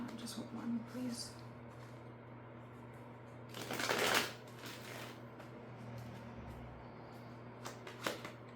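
Tarot cards are shuffled in one brief, loud riffling burst midway, with a few soft card taps before and after against a quiet, low room hum.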